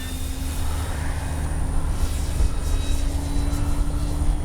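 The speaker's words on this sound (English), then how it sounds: "Flyby kind of slow, flaps are down. About half throttle." A radio-controlled F4U Corsair model warbird flying past slowly at half throttle with flaps down, its propeller engine a steady droning buzz, loud and continuous throughout.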